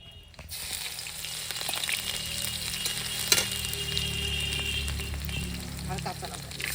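Chopped ginger hits hot oil in a pan alongside nigella seeds, giving a steady, close sizzle and crackle that holds for several seconds with a brief sharper pop partway through.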